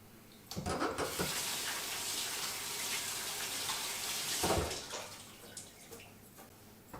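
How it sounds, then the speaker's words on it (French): Running tap water pours steadily in a kitchen while hands are washed between steps of baking soft homemade cookies; the rush starts abruptly, holds for about four seconds, then cuts off, leaving quiet handling sounds, with no talking. "Hop, on se lave bien les mains."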